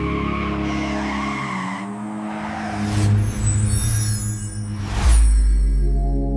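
Cartoon car in a kids' 3D animated alphabet race skids with a long, loud tire squeal, then roars and screeches again near the end, with a steady engine rumble and background music throughout, no voices.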